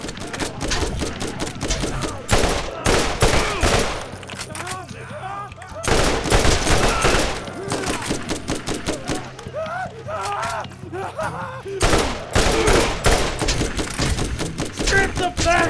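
Rapid bursts of Tediore gunfire in Borderlands, loud and close, firing in clustered volleys with short pauses between, a voice briefly heard amid the shots.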